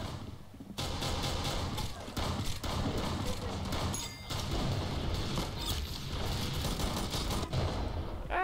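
Gunfire in the video game Arsenal, a busy stream of rapid shots and clattering impacts that starts abruptly after a quiet moment and continues loudly, with a player talking over it.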